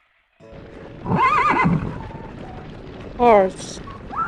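A horse whinnies, one long wavering neigh followed after a pause by a shorter second call over steady low background noise.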